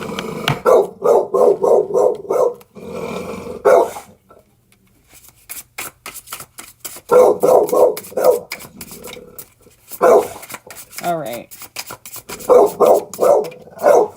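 A dog barks in rapid, loud bursts close by, with short pauses and a few rougher growling stretches between the volleys.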